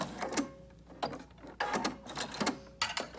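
A sewing machine makes repeated short back-and-forth runs while backstitching a fabric dust mask with bias tape edging, about five close, mechanical bursts separated by brief pauses.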